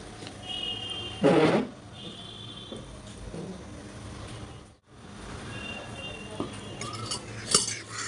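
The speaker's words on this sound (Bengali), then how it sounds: "এখন আমি সব একসাথে মিক্স করে দিচ্ছি।" Iftar ingredients, including pomegranate seeds, are stirred together in a bowl, with close clinking and scraping of a utensil against the dish over a steady background hum.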